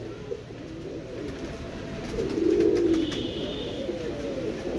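Soft, low cooing of female racing pigeons rising in a rolling burst midway, over a faint background hum; no voices.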